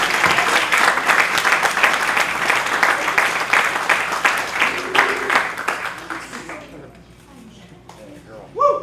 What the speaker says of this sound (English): Let's give one more round of applause to all of our EMT graduates